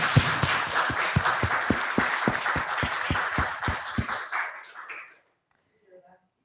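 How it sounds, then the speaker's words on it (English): Audience clapping after a Q&A with a film director, loud and dense for about four seconds, then thinning out and stopping, leaving near silence. "there's a lot of clapping"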